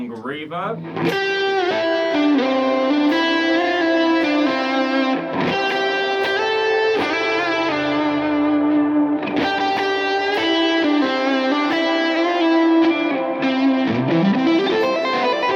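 Close, loud 2010 Suhr Modern LE electric guitar in Silver Drip finish with maple neck, playing ringing chords and single-note phrases through a long reverb, each phrase leaving sustained tails before the next begins.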